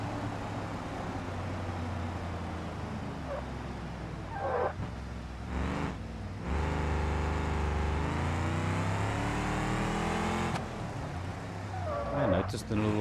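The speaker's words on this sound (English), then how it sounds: "This one is definitely a V8 of some sort, and it is a lot more noisy." A noisy V8 van engine in BeamNG.drive career mode revs up and holds a steady droning pitch for several seconds, fairly close and loud, with a person talking over it.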